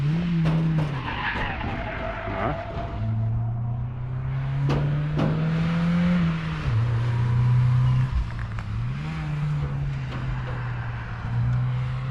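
A four-wheel-drive Volkswagen Passat runs on a race track, its engine note rising and falling through gear changes and tires squealing through corners, loud and close throughout.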